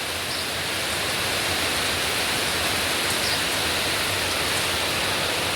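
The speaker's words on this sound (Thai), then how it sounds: "ฝนตกหนักมากเล" Heavy afternoon rain pours down at the Talat Seri market in Phutthamonthon, a loud, unbroken hiss and roar that stays even from start to finish.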